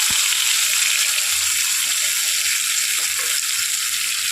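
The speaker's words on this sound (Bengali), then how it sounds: "এবার আমরা কড়াইতে এটা দেব। মশলাটা দিয়ে দিলাম কড়াইতে।" Spice paste thinned with water hisses and sizzles steadily after going into a hot wok, a loud, dense, continuous frying noise with a few faint knocks.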